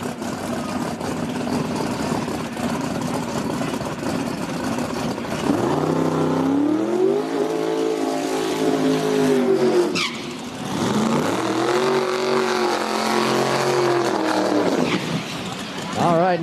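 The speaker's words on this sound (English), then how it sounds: "two very, very fast cars pulling into the burnout box right now" Two very fast drag race cars rumble in the burnout box at a drag strip, engines loud and close with rising and falling revs, while an announcer talks over them.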